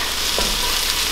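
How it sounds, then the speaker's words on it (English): Chicken soup ingredients, including whole garlic cloves, sizzle steadily in a hot pot, a continuous close hiss of frying with no pauses. "See it sizzle."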